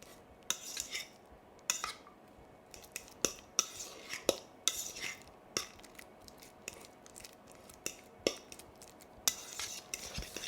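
Ripe bananas mashed by hand in a bowl, giving a close, repeated series of soft clacking utensil taps against the bowl in an uneven rhythm over quiet background, with no speech.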